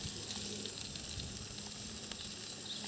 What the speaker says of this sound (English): fry some bread.